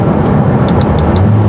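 McLaren sports car engine revving hard while downshifting, a loud dense low growl with a few sharp crackling pops from the exhaust near the middle, close and continuous with no talking.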